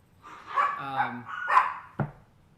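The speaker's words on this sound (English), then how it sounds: "why is Iris barking now" A dog barks a few times close by, a short run of yelping barks ending in one sharp bark, with quiet surroundings.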